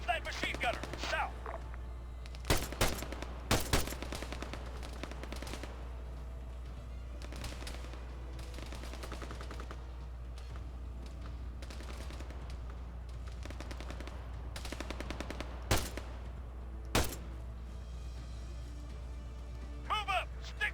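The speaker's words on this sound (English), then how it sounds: "Engage that machine gunner!" Machine gun fire in the video game Arma 3, heard as repeated sharp bursts over a steady low rumble, with shouted voices and battle noise in the background.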